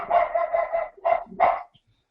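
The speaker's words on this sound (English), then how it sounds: "I really don't know what she's barking at" A dog barks several times up close, a quick run of yaps followed by two louder separate barks, with no talking over it.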